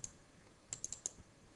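Faint computer mouse clicks in GP-Pro Ex software, a few quick light clicks in a short cluster including a double-click, quiet against a soft background hiss.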